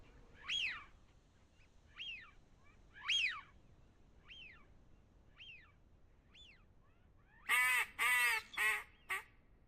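Wigeon ducks calling in a duck-hunting video game, a series of short whistled calls spaced across the clip, then a louder burst of several rapid calls near the end, with no talking.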